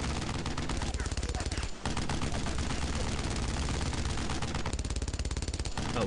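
Sustained machine gun fire from the World War II video game Brothers in Arms: Road to Hill 30, with loud, dense rapid bursts that rattle almost continuously and pause only briefly.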